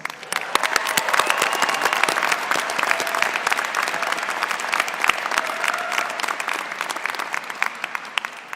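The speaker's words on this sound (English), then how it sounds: "Let's offer them our gratitude with another round of applause." Sustained audience applause at the UC Hastings law school commencement in 2017, a dense, loud crowd of clapping hands filling the hall steadily from start to finish.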